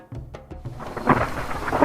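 A thunderstorm: thunder cracks and rumbles low over steady rain that grows heavier, with scattered raindrops pattering on surfaces. The scene is an African village at night.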